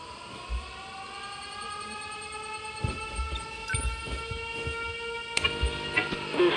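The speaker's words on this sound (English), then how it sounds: "Air raid alarms have been sounded." Air raid siren in the game 13 Sentinels: Aegis Rim, a sustained wailing tone with stacked harmonics ringing steadily at moderate distance, joined by scattered thuds and short sharp clanks.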